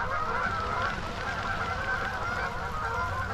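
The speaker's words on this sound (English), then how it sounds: "got a bunch of geese over there" A bunch of geese by a lake during heavy rain honk continuously in an overlapping chorus, loud and steady against a constant hiss of rain, with no speech.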